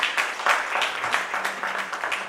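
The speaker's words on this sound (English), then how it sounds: "I think he deserves an applause for that." Audience applause at a corporate conference address, steady dense clapping from a crowd in a hall, moderately loud and continuous throughout with no talk over it.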